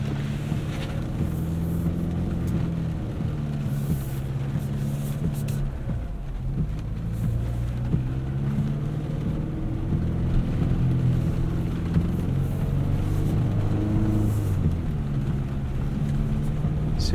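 A 2025 Chevrolet Colorado ZR2 Bison pickup in four-low crawls slowly up a muddy off-road hill, giving a continuous low engine drone with gentle throttle swells, heard steadily from inside the cab.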